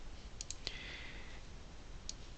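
A computer mouse clicks a few times in quick, faint taps on a Windows PC, with a short pause before one last click and no talking.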